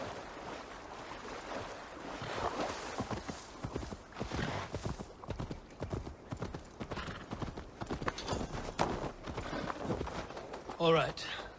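Within the Assassin's Creed Valhalla game, a horse swims, with repeated splashing, thudding strokes and a steady water wash that rise and fall at close range.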